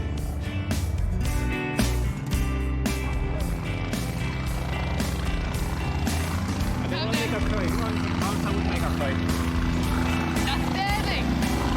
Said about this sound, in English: We're going in the helicopter.